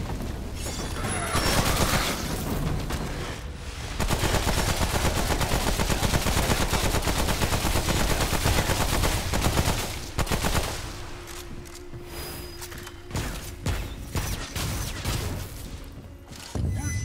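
Near-continuous loud gunfire fills a fight in the game Remnant: From the Ashes, dense rapid shots with heavy low impacts and crashes that thin toward the end into sporadic bursts under a faint steady tone.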